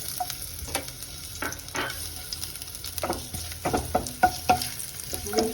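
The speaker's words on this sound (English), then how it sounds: "we'll fry this for 2-3 minutes" Chopped ginger frying in hot oil for a spicy garlic pork dish, with a soft continuous sizzle broken by repeated sharp scrapes and knocks of a utensil stirring the pan, growing busier toward the end.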